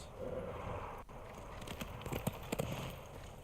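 Horse hooves clip-clop at a trot in the samurai video game Ghost of Tsushima, a steady run of close, fairly loud hoofbeats with a few sharper strikes near the end.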